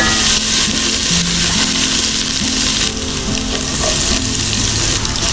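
Chopped ginger and garlic frying in hot oil make a loud, close, crackling sizzle that runs continuously, with brief dips and spatter bursts as the pan is worked.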